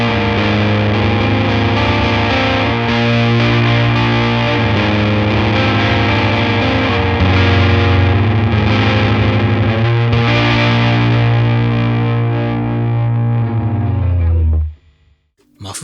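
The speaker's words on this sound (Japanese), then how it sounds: "マフ系のファズですね。" Muff-style fuzz pedal, the Umbrella Company Mayonnaise, distorting an electric guitar that plays thick sustained chords and riffs. It runs loud and continuous for about fifteen seconds, then cuts off abruptly near the end.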